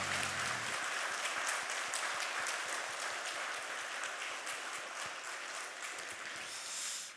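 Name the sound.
church congregation clapping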